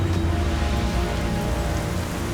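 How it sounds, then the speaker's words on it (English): Steady heavy rain pouring on an outdoor challenge course with a ramp, a dense continuous hiss close by with no voices over it. "That rain is going to make the ramp a little bit slippery."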